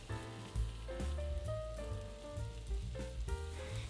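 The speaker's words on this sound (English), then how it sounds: "In a pan on medium-high heat, add oil and pan fry the skewers." Satay chicken skewers pan frying in oil over medium-high heat, a steady close crackling sizzle like rain on a surface, with soft background music and no talk.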